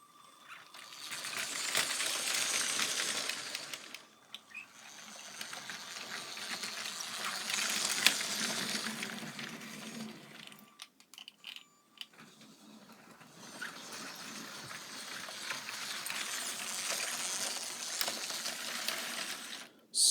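A custom Lego 0-6-0 porter locomotive running, a light plastic rattle and whirr that rises and fades in three passes with brief clicks and pauses between.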